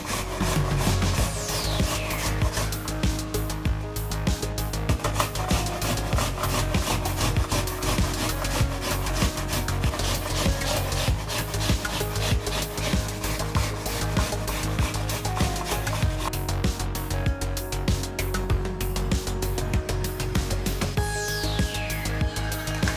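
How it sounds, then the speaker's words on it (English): Apples being grated for a sauce, a steady run of rasping, rubbing strokes close by that keeps going throughout with no talking. "Grate the apples to create a juicy base for the sauce."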